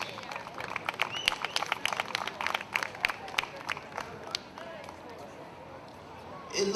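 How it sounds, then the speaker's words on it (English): Scattered clapping from an event audience, a steady patter of individual claps for about four seconds that thins out and fades toward the end, heard at moderate distance with crowd murmur underneath. "Let's give him a big round of applause."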